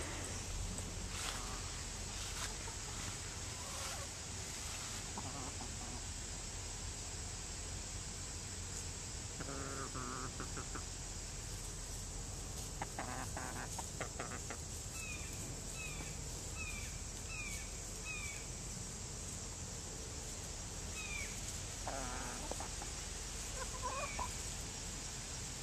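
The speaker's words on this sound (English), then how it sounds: "I hope you're not getting too bored with all the chicken foraging footage." Red Star hens foraging outdoors give soft, scattered clucks and short calls, fairly faint against a steady hiss of background insects and outdoor ambience, with no talking.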